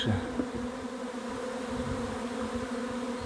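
A swarm of honey bees settling on a hive frame, a dense, steady buzzing drone close by and unbroken throughout, with no talking.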